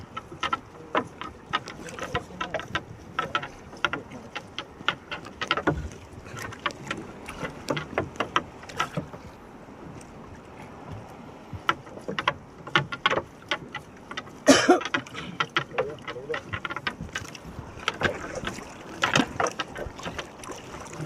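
A small fishing boat working on open water while two men haul in a net, with scattered clanks, knocks and splashes over a steady low wash, one loud knock standing out near the middle.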